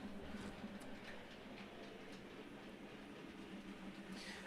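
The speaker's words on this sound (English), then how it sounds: "let's have a look at the tram going around the layout again" A model tram running around a model railway layout, heard as a faint steady rolling rumble with light clicking, continuous and low in level throughout.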